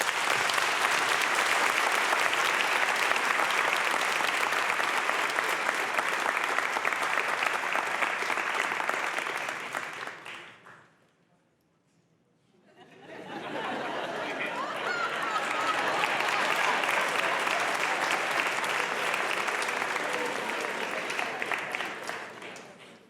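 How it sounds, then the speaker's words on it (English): A college convocation audience applauds in sustained, dense clapping for about ten seconds, falls briefly silent, then a second long wave of crowd applause rises and continues to the end. "But please join me in applauding his achievement."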